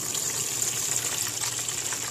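Juice from an electric juicer pours steadily into a strainer set over a gallon bucket, a continuous close splashing gush with no talking.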